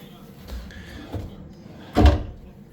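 A drawer in a hotel room slides and knocks shut with a soft thump, followed by a louder closing bump, while a person talks quietly nearby.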